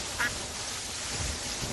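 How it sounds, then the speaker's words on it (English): A duck in the video game Terraria gives a short quack early on, faint under steady, noisy game background. "Is that a duck?"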